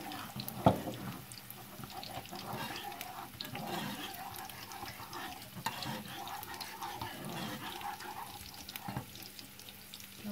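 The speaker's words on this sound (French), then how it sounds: "On mélange." Sweet and sour sauce being stirred with water in a kitchen for stuffed tofu, a soft, steady watery swishing with small clinks, close and fairly quiet, no voices.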